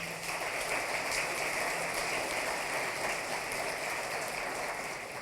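Crowd applause at Destination Medical Center's annual meeting, thanking the event's gold sponsors: a continuous, even patter of many hands, fairly distant and steady throughout.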